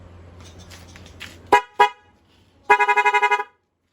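A Rusi Macho 175 motorcycle horn wired through an interrupter relay blares close and loud: two short separate honks, then a fast pulsing burst of about eight rapid beeps, heard over a low engine idle.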